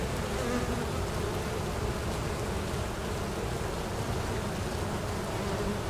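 Honeybees at an opened hive give off a dense, steady buzzing swarm drone that stays constant with no pauses.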